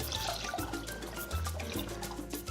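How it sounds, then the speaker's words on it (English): Cream pours into a cooking pot to be warmed for a lobster bisque, a continuous liquid splashing and trickling close by with no talking. "we'll take this time to warm up our cream. Let's put this in here, we'll warm that up"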